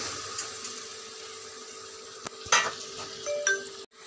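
Boiled jackfruit sautéing in spiced oil gives a steady close sizzle, with a brief clink of a utensil near the middle, before the sound cuts off abruptly at the end.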